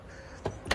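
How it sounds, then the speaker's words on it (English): An Aston Martin's power window motor runs in two short bursts, close and fairly quiet, with a brief whir at the start of each movement. "There goes the window."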